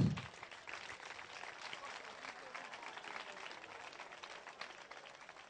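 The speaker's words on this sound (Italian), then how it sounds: "Credo che meritino un applauso." Audience applause at an Italian kickboxing gala evening, a steady, fairly faint wash of many hands clapping from a crowd, continuing evenly without voices on top.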